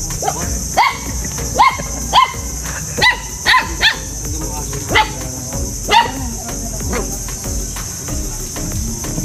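Several sharp dog barks spaced irregularly, fairly close, over a steady chorus of chirping crickets and faint background noise.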